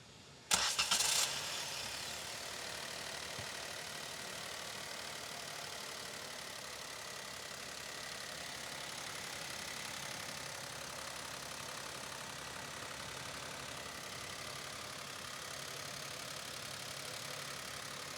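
A Maruti Alto K10 with a 1.0 litre K-series Dual Jet engine cranks and catches, then settles into a quiet, steady idle that holds evenly for over fifteen seconds.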